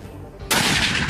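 A 12.7 mm PDShP sniper rifle fires a single shot: a sudden, loud, sharp blast halfway through, followed by a sustained rolling echo.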